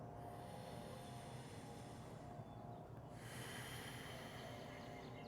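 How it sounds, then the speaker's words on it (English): Steady breathing in and out through the nose, Ujjayi style, during an outdoor vinyasa yoga session, a continuous soft airy hiss with a brief pause midway, close and alone. "Maybe activating your Ujjayi breath if that's in your practice, breathing in and out through your nose"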